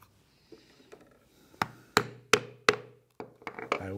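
A stitching chisel is struck repeatedly to punch holes through leather for a cell phone holster, giving a series of sharp, close mallet taps, about a dozen irregularly spaced knocks that grow louder toward the end.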